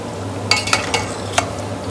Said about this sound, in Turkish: Biberle patateslerimizi kızartacağız.